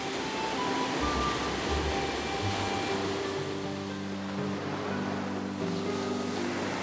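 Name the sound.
ocean waves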